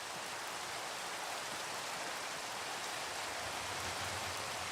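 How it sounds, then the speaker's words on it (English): Rain falls in Minecraft as a continuous, even hiss of dense rainfall with no breaks, steady and moderately loud, with no voices. "And it's still raining?"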